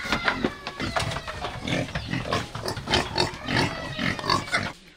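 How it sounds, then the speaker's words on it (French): Pigs on a pig farm run by Burundian refugees grunt and squeal repeatedly, with dense overlapping close-up oinks in an irregular rhythm, loud and without talk. "Ces porcs sont très sains et propres."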